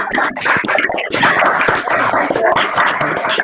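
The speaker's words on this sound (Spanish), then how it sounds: "llegue a Córdoba este aplauso virtual. La verdad que se escuchen los aplausos por distintos lugares" Scattered clapping from an online audience at a virtual education talk, a dense patter of many hands over a few seconds with faint voices mixed in.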